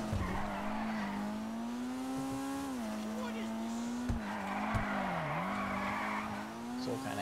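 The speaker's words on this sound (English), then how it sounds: "So we'll kind of have to make do with it just sliding." A front-wheel-drive Maibatsu Penumbra FF in GTA Online slides along, engine droning at high revs with tire squeal layered over it, and a voice talks over the sound.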